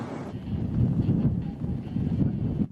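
Strong, constant wind on a hilltop rumbles against the microphone in a low, steady roar that swells slightly and holds, cutting off abruptly at the end, with no one talking.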